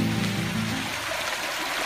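River water flowing steadily by a riverbank in rural Zamboanga del Norte, a continuous broadband rush with a low hum in the first second, no voices.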